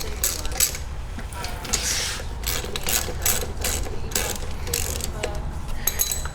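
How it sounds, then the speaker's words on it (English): A socket ratchet clicks in quick repeated bursts while loosening bolts on a Toro 22-inch Recycler self-propelled walk-behind lawn mower, close up, with steady background noise. "I'm gonna go ahead and loosen up the bolts."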